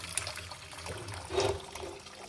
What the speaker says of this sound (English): we're gonna put 1 cup of hot water